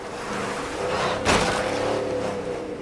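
A truck engine in the video game State of Decay 2 droning steadily and close while driving, with a brief louder burst midway and no voices.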